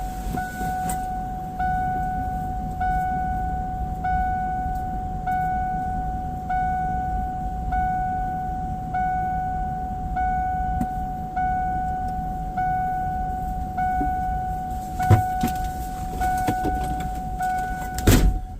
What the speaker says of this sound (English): Hear that little ding? If you don't hear that ding, the van won't start.